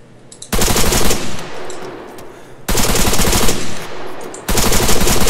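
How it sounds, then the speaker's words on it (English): Automatic weapons fire in an Arma 3 Wasteland match at night: three loud, close bursts of rapid gunfire, each lasting a couple of seconds, with a brief lull between them. "I just shot this guy in the face and he didn't die."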